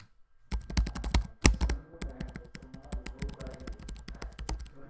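Rapid clicky keystrokes on an Asus Zephyrus G14 (2022) laptop keyboard, a short burst, a brief pause, then steady continuous typing close up.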